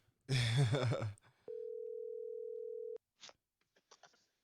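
A telephone tone sounds on an outgoing call, one steady, unbroken pulse lasting about a second and a half, preceded by a brief burst of talk and followed by faint clicks.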